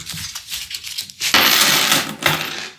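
A paper roll of forty nickels is torn open and the coins tumble out, starting with soft paper crinkling and then becoming a loud, bright burst of metallic clinking and jingling close by.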